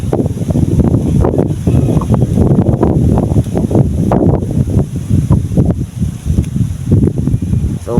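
Strong seaside wind buffets the microphone in a steady, loud roar with gusts, out where a diamond-type kite is flown near the sea.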